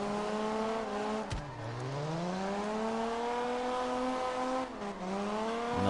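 A Toyota Supra in the driving game CarX revving hard from near standstill, then launching as the clutch drops, the engine note dipping and climbing steadily through the rev range, loud and close with a brief tire chirp.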